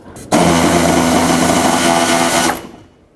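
Power tool driving out bolts from the fender of a 2009-2014 Ford F-150, one loud, steady whirring run of about two seconds that starts abruptly and winds down at the end.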